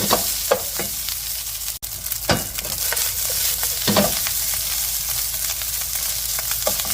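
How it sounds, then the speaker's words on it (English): Singapore fried rice stir-fried in a hot pan, with a steady loud sizzle throughout and several sharp scraping tosses of the utensil against the pan, all close up and without speech. "You just give them a quick toss, like this."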